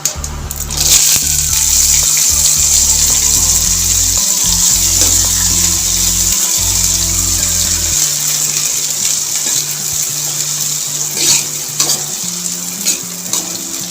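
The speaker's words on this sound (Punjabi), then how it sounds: "ਇਹਨਾਂ ਨੂੰ 2 ਸਕਿੰਟਾਂ ਲਈ ਥੋੜਾ ਜਿਹਾ ਫਰਾਈ ਕਰ ਲਾਂਗੇ" Loud, steady sizzling of boiled peas frying with cumin in hot oil, with scraping stirring sounds throughout and a brief lull near the end; no voices.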